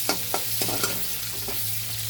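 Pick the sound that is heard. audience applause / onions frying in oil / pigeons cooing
onions frying in oil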